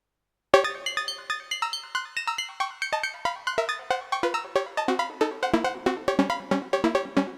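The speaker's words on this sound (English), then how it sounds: "modulated by the LFO, and that sounds like this." Korg Electribe EMX-1 synth sequence with its pitch swept by an LFO, a steady run of short plucked tones rising and falling in pitch, loud and alone after a brief silence.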